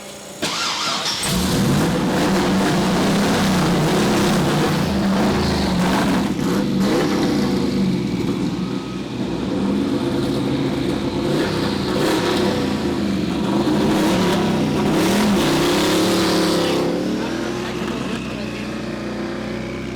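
A quad-turbo LS-powered Audi Quattro project car pulls away under hard acceleration. The engine roars loudly and steadily close by, and there is some background commotion.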